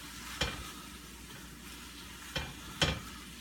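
Meat and vegetables with sauce stirred and tossed in a hot pan for primal crack slaw, a steady sizzle broken by a few sharp scraping tosses, close and without talk.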